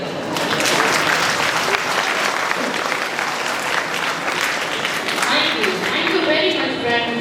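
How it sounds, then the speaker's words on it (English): Sustained applause from an audience at a school cultural program with skits, dense and steady throughout, with some crowd noise mixed in. "So, shall we put our hands together?"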